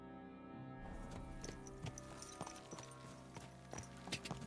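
A horse trotting away in Kingdom Come: Deliverance II, soft regular hoofbeats under game music, faint and steady.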